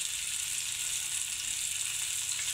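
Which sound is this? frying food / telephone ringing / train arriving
frying food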